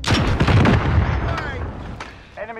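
A cruise missile explodes in the Call of Duty: Modern Warfare video game, a loud booming blast with rumbling debris that slowly fades over a couple of seconds before a short mechanical tone at the end.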